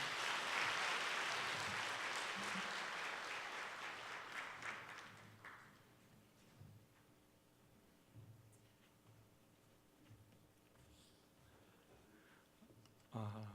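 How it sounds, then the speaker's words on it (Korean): A church congregation claps together loudly for about five seconds during a Sunday service, then the applause fades into a quiet room with scattered small rustles. "우리 한번 크게 박수해 주시기 바랍니다."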